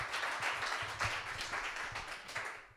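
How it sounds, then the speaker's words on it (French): An audience applauds after a panel talk on the digital future at an afterwork event. The dense, steady clapping holds a quick irregular rhythm throughout and fades slightly toward the end, with no clear speech. "On peut les applaudir."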